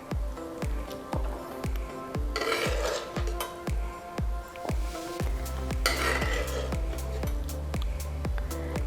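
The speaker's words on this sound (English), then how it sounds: "let's just spoon this in" Vegan meatball mixture spooned into a hot pan, with close, repeated soft squishes and metal scrapes over a steady sizzle, the scoops arriving in an uneven rhythm.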